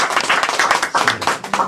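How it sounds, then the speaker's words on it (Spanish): An audience at a Spanish-language poetry book presentation claps for a Colombian poet, a loud, dense run of hand claps close by, with faint voices mixed in. "Aplausos para ella"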